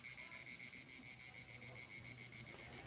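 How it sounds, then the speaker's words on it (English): Cicadas and crickets chirp steadily in a forest, a continuous high buzzing drone with layered pulsing tones, faint and distant, with no voices over it. "Rakshi, that sound in the background of cicadas, cricket"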